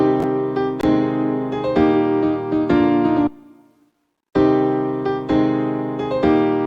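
Piano chords layered with a soft synth pad from free software instruments, played as a steady sequence of sustained chords that stop briefly for about a second and then resume, loud and close with no talking.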